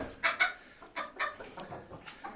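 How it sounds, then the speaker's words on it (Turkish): Chickens and roosters cluck in short, irregular bursts nearby, several birds calling over one another with no talking. "Bak iki tarafta da horoz var."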